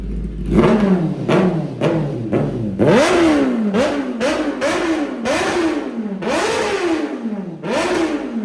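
A 2024 Kawasaki ZX-10R with a loud aftermarket exhaust revs hard again and again, each sharp throttle blip rising and falling in a steady rhythm, close and very loud with no talking.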